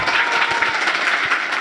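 An audience at a televised Arabic quiz show applauds a boy who has won a 5000 prize, a short burst of steady, fairly close clapping from a crowd.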